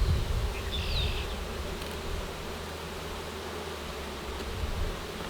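Honey bees buzz steadily around a hive in a growing apiary, a dense continuous drone with individual insects passing close now and then, no voices.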